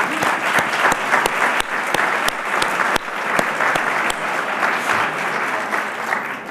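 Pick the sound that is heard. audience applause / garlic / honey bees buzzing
audience applause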